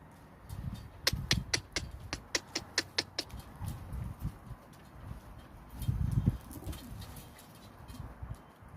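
Pet pigeons kept at home, recently recovered from illness, coo in low murmuring bursts mixed with brief sharp sounds like wing flaps or claps, moderately close against a steady background hum.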